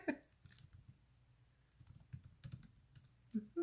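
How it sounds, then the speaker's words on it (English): Rapid clattering of computer keyboard keys in irregular bursts, close and fairly quiet, with brief pauses between flurries of typing. "Hopefully you can hear me typing."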